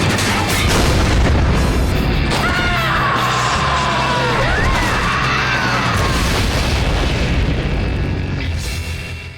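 A cartoon explosion tears through the park in Regular Show, a loud sustained rumbling blast with crashing debris and shouting voices mixed in, the roar holding steady before easing toward the end.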